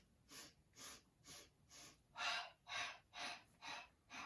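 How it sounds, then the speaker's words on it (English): Rhythmic sharp sniffing breaths taken during a Pilates exercise, nine short bursts in an even pulse, the later ones louder, close and with no talking. "Now sniff."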